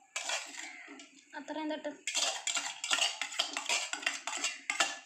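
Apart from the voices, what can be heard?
mixing Lay's chips snack ingredients in a bowl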